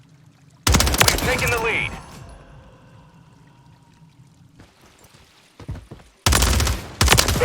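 Submachine gun fire in a video game comes in two loud bursts of rapid shots, with a quieter stretch between them. A brief spoken line sounds in the gap.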